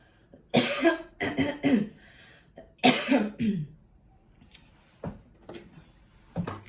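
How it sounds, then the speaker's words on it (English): Several bursts of coughing and throat clearing from one nearby person, clustered in groups with short pauses between them, ending with softer single coughs. "Woo, I was coughing."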